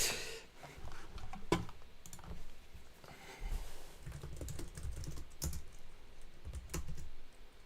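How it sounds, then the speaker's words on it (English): Someone types on a computer keyboard, irregular bursts of clicky keystrokes close by with short pauses between, fairly quiet and with no speech. "I don't know why I'm typing."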